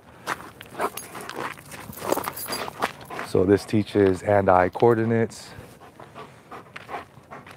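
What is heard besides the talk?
giant schnauzer dog panting during play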